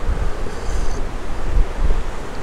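Strong wind buffets the microphone at a lakeside campsite on Lake Texoma, a loud, gusting low roar that swells and eases over a few seconds, with no talking.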